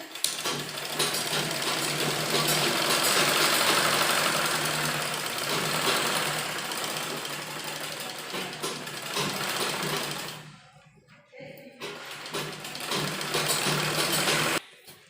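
A sewing machine runs in a long continuous whir while making a loose basting stitch on a kurti, close and steady, then pauses briefly before starting again.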